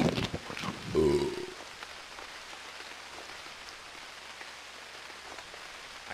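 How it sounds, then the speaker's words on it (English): Steady rain falling at night in the Unreal World survival game, a soft even patter that runs on alone after a brief louder burst at the start. "Oh, we woke up at night in the rain."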